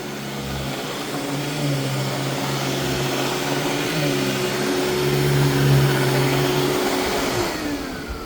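A Royal Deluxe vacuum cleaner runs steadily, a loud, close motor drone with a strong whine that holds level throughout and winds down slightly at the end.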